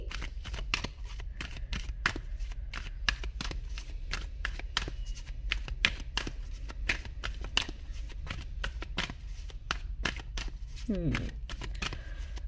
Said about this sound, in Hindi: कार्ड आपके सामने ही मैं शफल करके रखूंगी